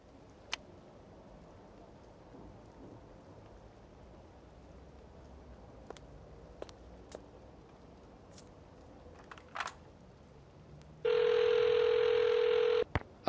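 A telephone in the video game Memento Mori II gives a few sparse, faint clicks like number presses over a quiet hiss, then a loud steady ringing tone for about two seconds near the end.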